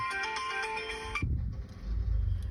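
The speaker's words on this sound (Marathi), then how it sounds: "आता बघा फोन आलाय त्याचा" A mobile phone ringtone plays for an incoming call on a prankster's friend's phone, a bright melodic tone lasting a little over a second before it cuts off, leaving low background rumble and handling noise.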